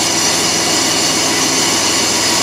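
Loud, steady roar of a Chevy K1500 pickup engine running with a sticky throttle held up, heard close under the hood as a dense broadband drone with no break or voices.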